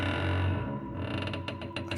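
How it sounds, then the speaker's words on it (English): Soft creaking of a hotel room door swinging open, a short, close, continuous mechanical groan with faint clicks toward the end, heard alone. "A soft creak, the unmistakable sound of a door opening"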